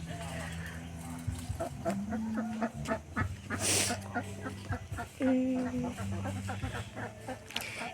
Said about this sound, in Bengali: আর এখানে হাঁস থাকে হাঁস প্যাক প্যাক করছে শুনতে পাচ্ছ তোমরা